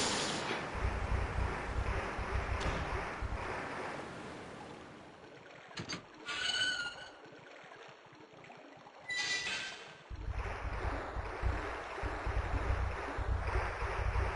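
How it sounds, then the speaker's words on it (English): Rushing water from a small waterfall in the Resident Evil 2 video game, a steady noisy roar that drops away briefly mid-clip amid a few metallic game effects, then returns at full strength. "we need to get rid of this little waterfall thing"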